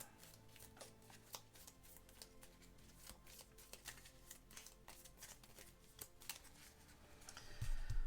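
A deck of playing cards is shuffled during a solo board-game session, giving soft, rapid riffling and tapping close by, ending with a louder rustle of handling.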